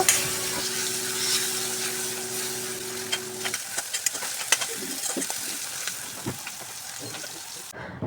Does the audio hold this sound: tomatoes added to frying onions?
yes